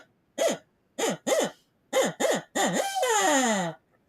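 A duck call blown to imitate an owl gives a series of short, loud hooting blasts in uneven bursts, ending in a longer wavering, descending note, close and alone.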